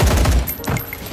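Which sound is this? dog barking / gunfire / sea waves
gunfire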